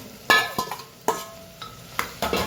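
Bottle gourd curry being stirred in a pan of hot oil with mustard seeds, cumin, turmeric and asafoetida: a close, fairly loud series of spoon scrapes and clanks at uneven intervals over a steady sizzle, with no talking.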